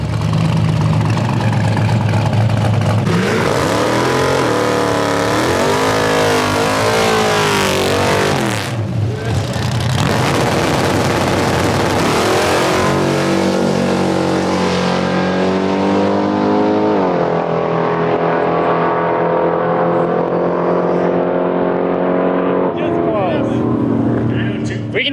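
Drag race car making a pass at Drag Week, with a loud, roaring engine that climbs and shifts through rising harmonic sweeps for about twenty seconds, close and sustained, and people talking over it.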